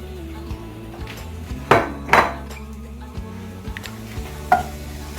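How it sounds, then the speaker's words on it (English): Bacon renders its fat in a pan started cold, a faint sizzle running beneath a few sharp utensil scrapes and clanks against the pan. "You're going to render your fat from your bacon, and you're going to do that in a cold pan."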